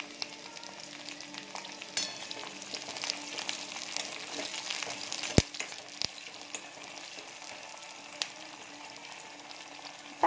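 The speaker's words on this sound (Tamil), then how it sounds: "வெங்காயம் கொஞ்சம் பொரிஞ்சு ஒரு வெந்தய கலரில் மாறும்." Onions frying in oil with curry leaves added for a vendakai puli kuzhambu, a steady soft sizzle with scattered sharp crackles and pops throughout, close and alone without talk.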